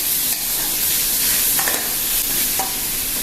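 A spoon scrapes and stirs through potato croquette filling seasoned with pepper and garlic powder in a hot pan, under a continuous loud sizzle, with a few sharper scrapes standing out close by.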